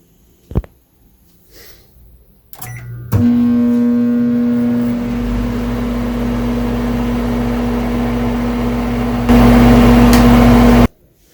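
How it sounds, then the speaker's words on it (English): A very loud microwave oven in a dorm room starts after a few clicks and then roars with a steady, jet-like hum and whine. The drone rises in level near the end, then cuts off abruptly. "it's the loudest microwave in the world. It sounds like a jet taking off."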